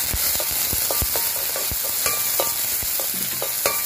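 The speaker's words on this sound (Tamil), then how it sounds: "கொஞ்சம் கடுகு கொஞ்சம் எல்லாத்தையும் போட்டு கொஞ்சம் நோமலா வதக்கி எடுப்போம்" Mustard seeds crackle and pop in hot oil while making Jaffna-style crab soup: rapid, irregular sharp pops over a steady sizzle, close by.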